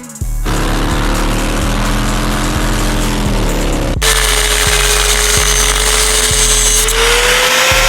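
A power grinder runs loud and close as it grinds down a steel crash bar on a Harley Sportster 883, holding a steady whine, then shifting pitch and load partway through, with no talk.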